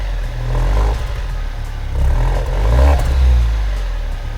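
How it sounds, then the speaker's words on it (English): A 2020 Alfa Romeo Giulia's turbocharged inline four-cylinder engine revs up in several swells, rising and falling with a rough, clattery low growl at close range. "This inline 4-cylinder turbocharged engine doesn't sound really good, but I think it wants to be heard."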